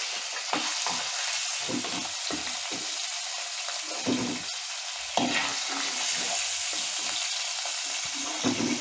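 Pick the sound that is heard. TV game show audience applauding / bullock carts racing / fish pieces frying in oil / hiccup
fish pieces frying in oil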